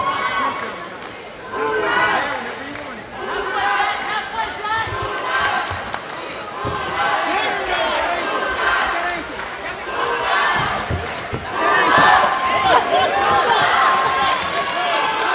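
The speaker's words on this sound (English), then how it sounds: "The crowd starting to chant here." A crowd chants at a PFC 27 professional MMA main-card bout during the second round of a women's fight, a rhythmic roar that fills the arena and holds steady under continuous ringside commentary.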